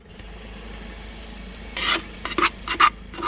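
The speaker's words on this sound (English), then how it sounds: "so I'll just transfer this soil" Soil being scooped and tipped into a garden pot while planting potatoes, a quiet rasping, gritty scraping in a few short bursts after a near-silent start.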